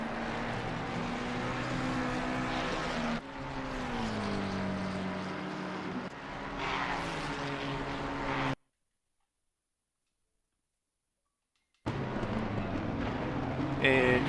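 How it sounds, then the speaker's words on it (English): Velocity Racing race cars running together in a 24-hour endurance race at Spa, a continuous engine drone with shifting pitch under commentary, cut by a few seconds of silence before resuming. "Two Velocity Racing cars, 995, 997, running together."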